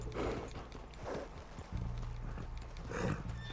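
Horse hooves clip-clop at a slow walk in Red Dead Redemption 2, a few soft thuds over a low background hum, quiet and close.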